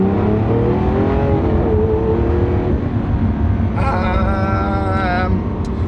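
A Lamborghini's engine revs and drones steadily while driving through London streets, loud and close throughout, its pitch rising and falling with throttle changes, and a brief higher whine partway through.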